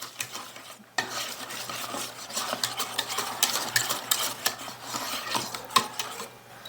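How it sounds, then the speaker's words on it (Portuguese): Cornstarch and egg yolk stirred in a bowl, a steady run of scraping, clinking strokes close by, brisk and continuous after a short pause at the start, with no talking. "dissolve bem o amido de milho, ó, amido de milho e o ovo"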